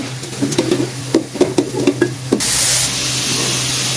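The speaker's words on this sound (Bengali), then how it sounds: "আর এদিকে আলু কষানো হচ্ছে" Potatoes being sautéed in a pan, heard as a series of close scraping and knocking stirs over a low sizzle, followed by a louder, steady hiss of frying at the end.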